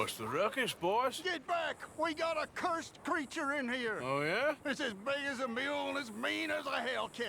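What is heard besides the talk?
No distinct noise like a dog, phone or traffic.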